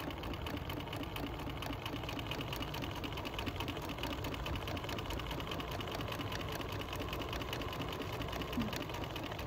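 A sewing machine stitches quilt binding in a steady, continuous whirring hum, close and unbroken from start to finish.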